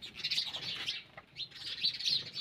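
Sparrows in a village farmyard near buffaloes chirp in bright, busy bursts, with a short lull partway through, moderately close and with no talking.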